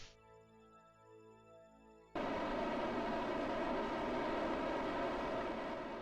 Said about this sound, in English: Loud engine.